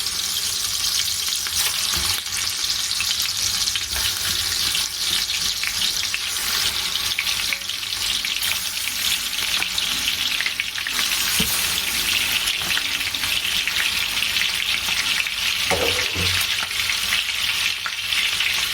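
Chicken pieces frying in hot butter with mastic, a steady dense sizzle throughout with occasional stirring clinks and a faint tap-like trickle, close and continuous, with no talk.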